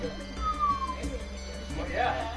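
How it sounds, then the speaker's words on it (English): A cat meows in a video game, a couple of short rising and falling meows near the start and end, heard over wind noise and a voice talking. "What have you done to the cat, Abby?"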